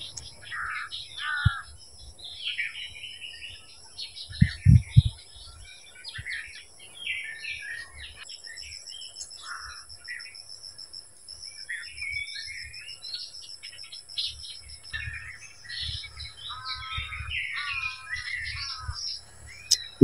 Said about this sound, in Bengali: সকালবেলার পাখির ডাকটি শুনতে বিরাট ভালো লাগে।